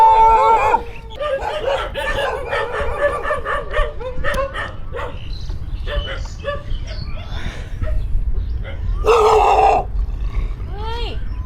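Stray dogs bark repeatedly along a roadside in Thailand, several animals yapping and growling close by in irregular bursts over the steady rush of a cyclist moving past, with a louder cluster of barks near the end.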